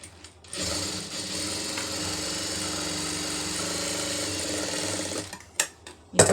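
A sewing machine stitches a fabric piece in a tailoring class, running in one steady, close whirring burst for about five seconds before stopping, followed by a few handling clicks.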